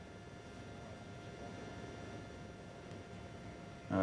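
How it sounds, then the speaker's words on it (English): Fighter jets flying overhead during the September 11 attacks, heard as a steady, distant roar of engines that holds throughout and swells louder in the final moments. "fighter jets, one would presume, to prevent any further attacks by planes"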